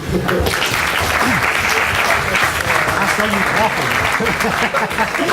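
A student debating society audience applauds throughout an independence debate with loud, dense clapping, and voices murmur and call out beneath it.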